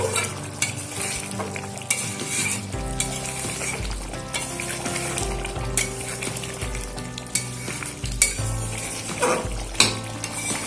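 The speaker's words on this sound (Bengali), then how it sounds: "ধনে পাতা কুচি দিয়ে দু মিনিট মতন ফোটাবো" A new potato dum curry cooks in a pan with chopped coriander added. Busy, close stirring and clinking of a spoon against the pot mix with a bubbling sizzle across the whole stretch, and no voices are heard.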